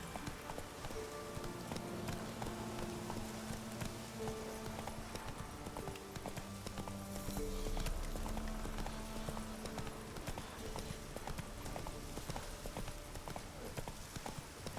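A horse in the video game Witcher 3 gallops with steady, rapid clip-clop hoofbeats throughout, fairly close, over a dense background of game ambience and music.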